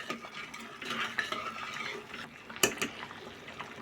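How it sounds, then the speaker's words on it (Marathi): Half-cooked khichdi is stirred with a spoon in a pot, producing continuous wet scraping and soft clinks, with one sharp metallic knock on the rim partway through. "पुन्हा एकदा चमच्याने ढवळून घेते"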